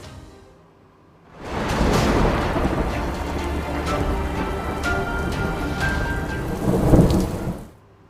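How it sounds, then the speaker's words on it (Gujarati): A heavy monsoon downpour in Gujarat rises suddenly into a loud, dense roar of rain drumming on surfaces, with thunder rumbling through it, then cuts away after several seconds. "રાજ્યના 99 તાલુકામાં સાર્વત્રિક મેઘમહેર જોવા મળી છે"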